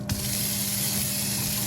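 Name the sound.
touchless kitchen faucet sprayer running water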